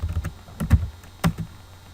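A few quick keystrokes on a computer keyboard while entering a MySQL database command, close, crisp clicks in short irregular bursts with no talk.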